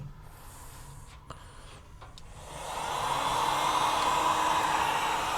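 A hair dryer blows on charcoal to get it lit, first faint with a few clicks and knocks, then swelling into a loud, steady rushing whoosh that continues to the end; no one speaks.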